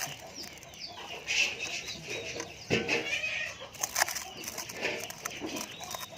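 Chickens, both large hens and small chicks, cluck and squawk while pecking at leftover rice set out on plates, with scattered wing flaps and scratching, moderately close.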